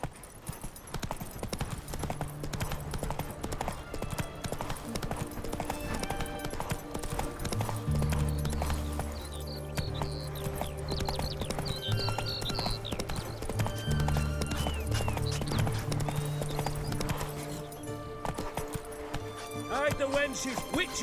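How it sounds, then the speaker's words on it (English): A horse gallops in the video game The Witcher 3: a steady, rapid clip-clop of hooves runs throughout, with game music and a faint whinny, while a voice speaks over it. "Run, Roach."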